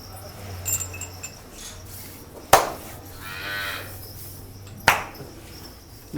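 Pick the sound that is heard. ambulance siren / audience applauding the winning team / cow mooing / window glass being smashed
cow mooing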